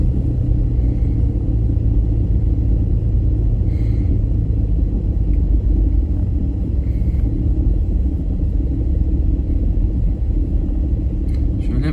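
A tractor climbs slowly up a forest ramp, its engine giving a steady, loud low rumble with no change in pace throughout, close to the listener and without talk.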